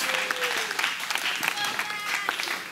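An audience gives a short round of applause for the students running the lights, a dense burst of clapping filling the room, with a speaking voice over it.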